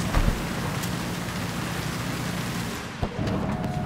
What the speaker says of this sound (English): I wouldn't stand out in the rain.